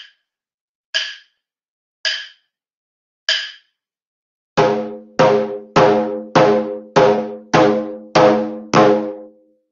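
Taiko drum struck with doro strokes: three or four sharp, widely spaced high-pitched clicks, then eight loud, booming drum hits in a steady even rhythm, each with a full ringing decay, heard alone.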